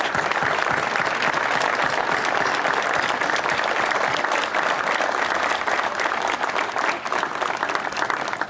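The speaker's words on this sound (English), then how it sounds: "with our past honorees, please stand, please, and we'll just give you a round of applause" A full room of people applauding past honorees at an Old Timers Association gathering, continuous dense clapping, close and loud, holding steady for over eight seconds with a faint crowd murmur beneath.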